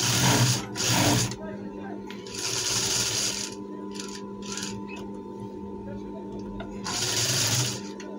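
A sewing machine stitches a traditional djellaba pocket with braid trim and lining, in loud bursts of running separated by quieter pauses, with a voice talking over parts of it.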